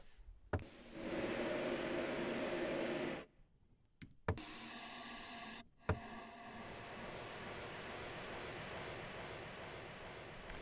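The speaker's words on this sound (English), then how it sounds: "let's chuck in some white noise, see what we get" Broad hissing synthesized white noise switched on and off, with sharp clicks at each change and a steady wash of noise running to the end.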